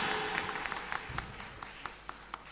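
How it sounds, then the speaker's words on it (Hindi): Audience applause at an Indian award ceremony, the India Meri Jaan Award 2013 event, a short burst of claps with a few sharper individual claps standing out, moderately loud and fading slightly near the end. "जोरदार तालियां"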